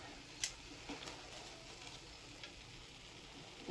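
Food frying in olive oil gives a quiet, continuous sizzle with faint pops and crackles scattered through it. No one speaks.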